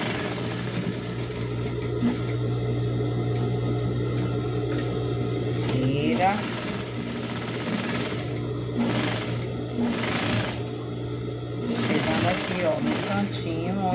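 A sewing machine stitches fabric for a vase-cover piece, its steady mid-pitched motor hum and rapid needle clatter running continuously, with a brief pause and restart partway through while someone talks over it.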